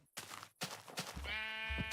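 A sheep in Minecraft gives a single loud, wavering bleat near the end, after a few short bursts of blocky in-game noise.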